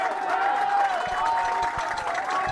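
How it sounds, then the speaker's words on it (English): Applause and cheering from the crowd at an under-19 rugby final between Atlantic Rock and Ontario Blues, steady distant clapping with a voice talking over it. "And that is the danger man, Connor McKinney, getting his just applause coming off the field."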